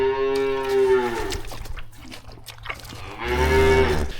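Cows lowing inside a dry cow shed on a working farm, two long, loud moos close by, separated by a quieter stretch of shed noise and a low steady hum.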